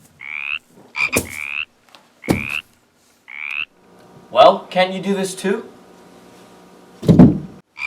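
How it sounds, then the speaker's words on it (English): Frog croaking sound effects for a church play about the plague of frogs: loud, close repeated croaks in short bursts, interleaved with people speaking and a thud-like noise. "let there be a plague of frogs!"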